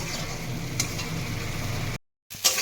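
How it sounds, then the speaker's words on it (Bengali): Spice paste for koi fish curry is stir-fried in a pan, giving a steady close sizzle with scraping stirs that drops to silence briefly before resuming with a clink. "মশলাটা আস্তে আস্তে করে কষিয়ে নিতে হবে"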